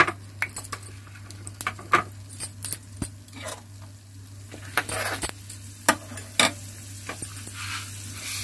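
Chana dal tipped into a pan with peanuts and curry leaves, giving a close, steady sizzle broken by frequent clinks and scrapes of a utensil against metal, with no talking.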